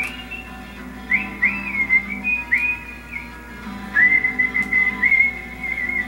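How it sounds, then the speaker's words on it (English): Someone whistles a wavering tune in short phrases, clear and fairly close, over a quiet low background hum. "Why didn't you just end it before the whistle?"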